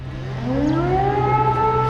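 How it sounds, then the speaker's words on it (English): An air raid warning siren wails in a Ukrainian town during the war, a steady, loud tone rising in pitch over a low hum. "The sirens have become such a background part of people's lives here living through the war."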